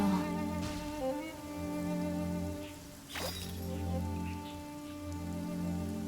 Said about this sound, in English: Not liking the rain here?